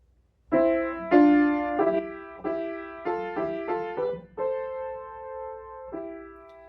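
Piano notes played in pairs, a series of clear two-note intervals struck one after another, the last ones ringing out longer.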